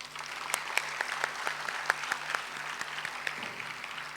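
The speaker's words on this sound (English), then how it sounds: "Let us give them a warm applause." Light applause from a modest audience at an evening event, individual claps standing out as sharp irregular snaps over a low hum, fairly close and thin rather than a roaring crowd.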